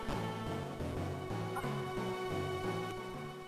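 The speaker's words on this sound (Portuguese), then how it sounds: "Um cachorro de rua." A stray dog in the Game Boy Advance game Shaman King: Master of Spirits gives short yipping barks in a repeating rhythm over looping chiptune music, moderately loud and with no talk.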